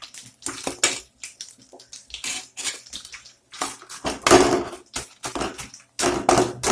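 Pieces of bread tipped from a container into sugar syrup in a metal pan while making bread halwa, a series of loud clattering, scraping knocks of utensils against the pan in uneven bursts, no talking.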